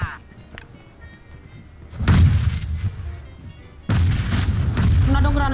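Two heavy grenade blasts in a PUBG Mobile match land a couple of seconds apart, each a loud booming burst with a rumbling tail, while faint game noise and brief voices sit in the background.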